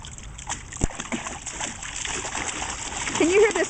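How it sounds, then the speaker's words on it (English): Continuous water splashing and sloshing in a 4-foot baby pool, fairly close, with a steady wash of noise and occasional sharper splashes. "Can you hear this splashing?"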